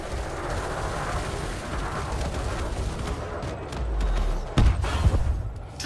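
A spaceship blown apart in Elite Dangerous: a continuous rumbling engine drone swells, then a loud, close explosive burst hits, followed by a few smaller cracks and crackling debris.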